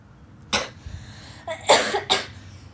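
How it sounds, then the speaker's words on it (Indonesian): Someone coughs nearby: a single sharp cough, then a brief pause and a quick burst of two or three rough coughs. "Tuh, batuk-batuk aku."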